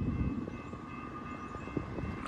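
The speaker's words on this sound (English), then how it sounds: "we got a CSX eastbound train coming down the line" An eastbound CSX freight train passing on the line at Sturgeon Point Road near Derby and Evans, New York, giving a steady rumbling roar with faint clanks throughout; no talking.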